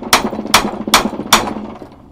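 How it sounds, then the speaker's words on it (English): A hammer strikes a hex L-key four times in a steady rhythm, each hit a sharp metallic clank close by, with faint ringing and mechanical rattle between blows. "I hit it with a hammer a couple of times"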